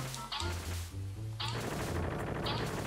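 Gunshots and can hits in the WarioWare Smooth Moves video game, several loud cartoonish shots and clanging impacts over bouncy game music in under three seconds.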